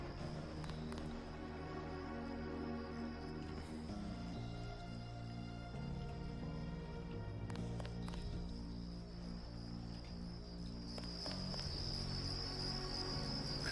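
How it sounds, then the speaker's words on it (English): Loud, steady cricket chirping fills a sewer area in the Deus Ex video game, a dense continuous insect drone with layered high trills and low ambient hum beneath, no talking. "Crickets are loud as fuck right here."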